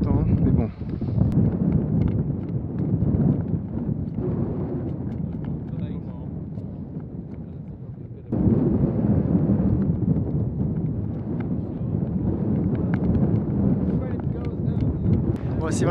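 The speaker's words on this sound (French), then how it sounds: "c'est vraiment les conditions particulières pour filmer parce que beaucoup de vent" Strong gusting wind buffets the microphone on a links golf course at Royal St George's, a loud low roar that surges and eases, with a sharp jump in intensity partway through.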